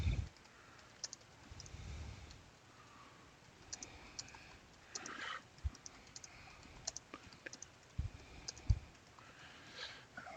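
Typing on a computer keyboard during a digital painting session, a quiet, irregular run of sharp key clicks and taps, some in quick bursts, against a soft background hiss.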